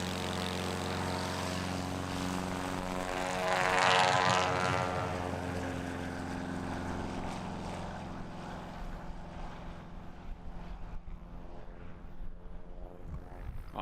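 A Cessna 170 nicknamed Beast powers up for a short takeoff at a STOL competition, its propeller engine droning steadily, swelling to a loud peak as it passes close, then easing into a fainter, continuing hum.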